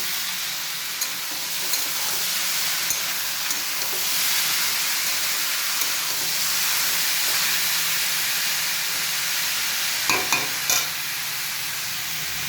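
Potato slices coated in salt and turmeric frying in oil, a steady, close hissing sizzle that holds evenly throughout, with a few light clinks of stirring near the end and no talk.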